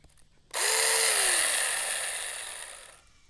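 A 4-inch ASJMREYE battery mini chainsaw revs up abruptly and runs steadily at high speed for about two and a half seconds, loud and close, then begins to wind down, with no talking.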